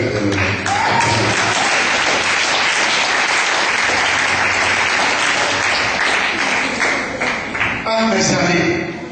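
A church congregation breaks into sustained, loud applause during a French sermon, the dense clapping filling the room for about nine seconds with voices calling out underneath.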